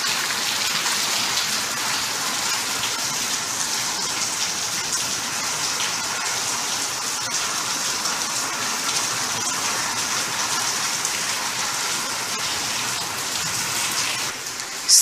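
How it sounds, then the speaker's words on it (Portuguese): Rain falls steadily and fairly heavily on outdoor surfaces, a dense, even hiss that continues without a break for the whole stretch. "Ó, a chuva, gente. A chuva."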